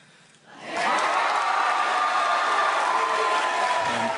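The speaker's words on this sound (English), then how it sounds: "the Central New York crowd erupted" A large Central New York crowd in a hall-of-fame lobby erupts at once into loud, sustained cheering and applause that swells quickly and holds steady, with no speech over it.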